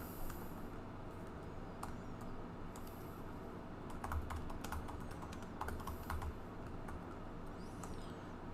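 Code being typed on a computer keyboard, a quick run of close, light key clicks with brief pauses between bursts.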